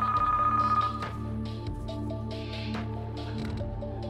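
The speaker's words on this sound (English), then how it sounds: "Do you hear the ringing sound?" A telephone rings once with an electronic tone on a game-show set, then the line goes quiet with faint background hum and scattered soft clicks.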